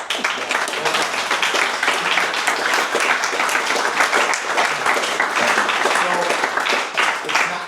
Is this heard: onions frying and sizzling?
no